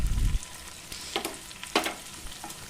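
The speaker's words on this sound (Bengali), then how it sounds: "এবার আমি ভালো করে এগুলোকে কষাতে থাকবো" Tomatoes and mixed vegetables with turmeric and chilli powder fry in hot oil, giving a faint sizzle with a few soft scraping stirs and light clinks, no voices present.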